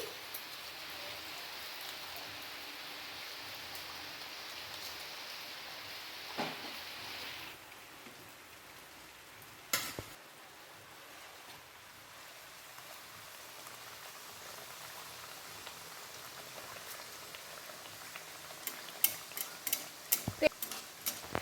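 Mughlai paratha sizzles in oil in a frying pan, a faint, steady crackle close by, with occasional clicks and taps from a utensil that grow more frequent toward the end.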